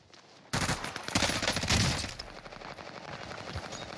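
Rapid bursts of SMG fire in the shooter game Warzone, a loud sustained rattle of closely spaced shots that begins abruptly and stays dense, easing slightly toward the end.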